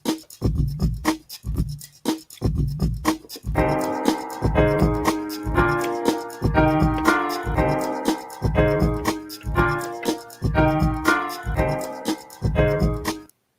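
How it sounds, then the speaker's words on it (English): A coded beat mix plays: punchy drum hits pulse in a steady rhythm, then a layered piano sample joins partway through, chords repeating over the beat until it cuts off at the end. "You can hear the new mix with my sound that I added to my code."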